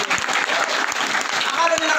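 A group claps together during a business training seminar, a dense, steady wash of applause sustained throughout, fairly loud and close, with voices mixed in beneath it.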